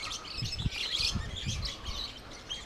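Parrots call at a bird park in Chandigarh, a run of bright, chattering chirps and screeches overlapping at moderate distance, with a few soft low thumps beneath.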